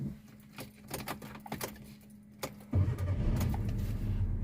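A manual-transmission car's engine starts partway through, after a few sharp clicks and knocks. It settles into a low, steady idle rumble that continues close by to the end, with no talking.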